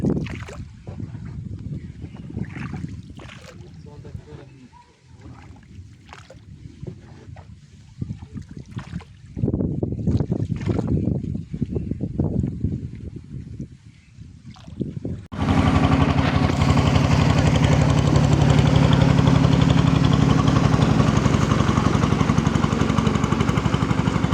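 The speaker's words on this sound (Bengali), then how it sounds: "আরে নৌকাটা চলে যাচ্ছে" A motorboat's engine drones on the water, with choppy, uneven rumbling at first, then a loud, steady mechanical roar that carries to the end.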